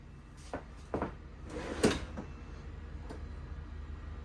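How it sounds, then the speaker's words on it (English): A soft-close drawer in a 2022 Riverstone Legacy 42FSKG RV kitchen glides shut, giving a few quiet, brief knocks and a gentle final thud over low room hum. "And you see how this drawer closes right here"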